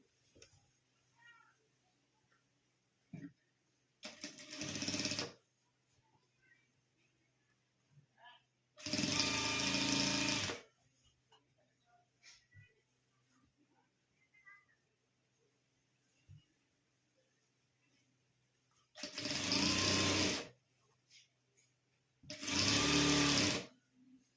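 A sewing machine stitches piping onto shirt fabric in four separate bursts of rapid whirring, each a couple of seconds long, with quiet gaps between.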